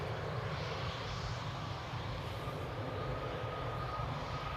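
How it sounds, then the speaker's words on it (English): A KLM Boeing 777 making a heavy takeoff from Amsterdam Airport on a rainy day, a continuous broad jet roar held steady at a distance with no voices over it. "another beautiful flow with a heavy takeoff there in the background"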